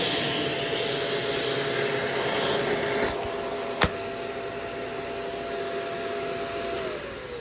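A Shark Rotator DuoClean Powered Lift-Away upright vacuum cleaner runs indoors with a steady, loud motor whine and airflow hiss that shifts pitch partway through, with a short sharp click near the middle.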